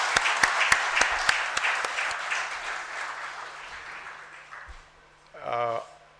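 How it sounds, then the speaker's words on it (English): An audience at a felicitation ceremony applauds with a few sharp, close claps at first, then a sustained wash of clapping that fades out, followed by a brief spoken voice. "I'd like to have a round of applause for both of them"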